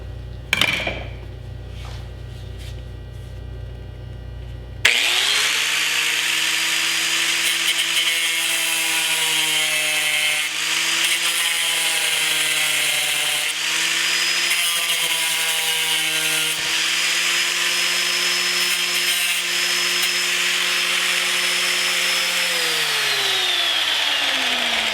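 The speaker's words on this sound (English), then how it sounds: "I put this cut wheel in my grinder, and I'm going to go ahead and grind that flush" After a few quiet seconds, an angle grinder with a cut-off wheel bites into a broken metal bleeder valve, grinding it flush, a loud continuous whine shifting pitch as the load changes.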